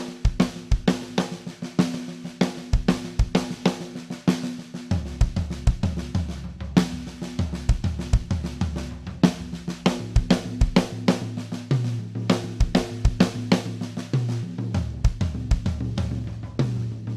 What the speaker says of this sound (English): Now we had a drum fill that sounded like this.